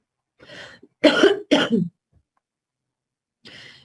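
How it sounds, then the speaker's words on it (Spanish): Two sharp, loud coughs in quick succession, close by, with softer breathy throat sounds before and after. "me dio tos"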